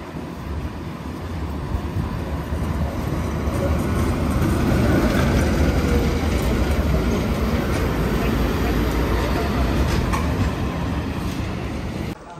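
A tram passing on a street in Lviv, Ukraine, a continuous broad rumble and rolling rail noise that swells slightly midway and holds steady for the whole stretch, with no clear voices.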